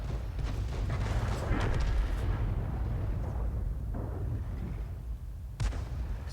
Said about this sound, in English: Oh, that shell zipped right over the top of him.